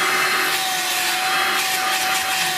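A Vax Air Cordless Handheld H85-ACH-BD 20V vacuum cleaner runs steadily with a loud, close, high-pitched motor whine and rushing airflow, unbroken throughout.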